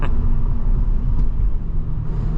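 Mercedes CLK 55 AMG coupé engine heard from inside the cabin while driving through a tunnel: a loud, steady low rumble of engine and road noise that holds throughout without a break.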